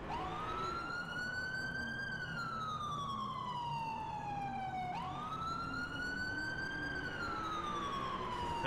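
Police car siren inside the GTA IV game with the LCPDFR mod, wailing steadily up and down in long sweeps over a continuous engine hum, loud and close with no talking.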